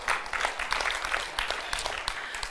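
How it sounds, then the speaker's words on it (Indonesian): Audience applause at a church talk on joyful marriage, a dense crackle of many hands clapping steadily for a couple of seconds with a faint murmur underneath. "Kok nggak ada yang tepuk tangan?"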